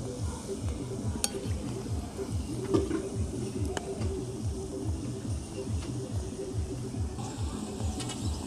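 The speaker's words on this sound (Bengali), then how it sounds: "তেলটা খুব গরম হয়ে গেছে। এবার কেকগুলো একে একে দিয়ে ভেজে নেব।" Mathura cakes, a Bengali fair-style sweet, fry in hot oil over a low flame with a steady, fairly quiet sizzle that holds for the whole stretch, with a few faint clinks on top.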